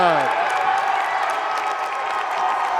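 A crowd at a high school boys basketball game in a gym roars with sustained cheering and applause, loud and continuous, with a voice heard at the start.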